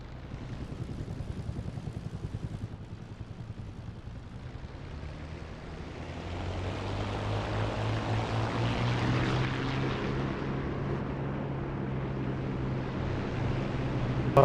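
Propeller aircraft engine in the DCS flight simulator taxiing toward the runway, a steady droning hum that swells louder and richer about halfway through and holds, with no talking over it.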